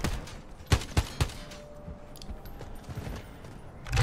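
Gunfire in a multiplayer shooter video game: a quick burst of three sharp shots in a row, fairly close, then quieter background noise and one more faint crack at the end.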